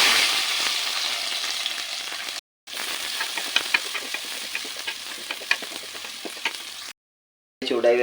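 Small onions sizzle and crackle steadily in hot coconut oil after mustard seeds and fenugreek, a loud continuous fry with brief gaps, no voices present.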